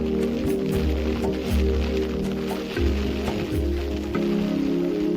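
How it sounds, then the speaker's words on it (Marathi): Steady, dense heavy rain hisses without a break at a dam, with a low droning hum running underneath the whole time. "जोरदार पाऊस आहे."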